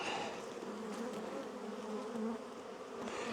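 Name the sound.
honey bees buzzing around an opened hive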